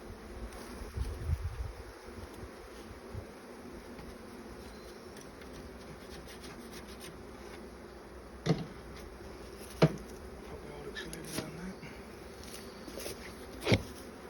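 Honeybees hum faintly around an open cedar hive during an inspection outdoors, a soft continuous buzz broken by a few sharp clicks and knocks, with light wind in the background and no talking.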